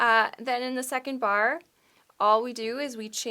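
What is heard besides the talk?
No everyday noise stands out behind the speech.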